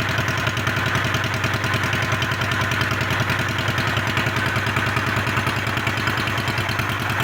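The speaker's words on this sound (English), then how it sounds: "That's why the motorcycle is now quieter than what it was." A 1968 Honda 350 Scrambler engine idles steadily up close through a cleaned exhaust, a rapid even thrumming with a clattery mechanical edge throughout.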